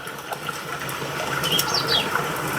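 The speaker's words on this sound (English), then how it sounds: "Do you hear the birds calling?" Birds calling in an outdoor nature soundscape, a few faint chirps and a brief descending call over a steady wash of flowing water-like background noise.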